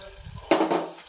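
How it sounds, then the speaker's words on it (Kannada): Tamarind juice is poured into sambar masala frying in oil in a pot. There is a sudden splash and sizzle burst, with faint kitchen clatter before it. "ನಾನು ಹುಣಸೆ ರಸವನ್ನು ಆ್ಯಡ್ ಮಾಡ್ತಾಯಿದ್ದೀನಿ"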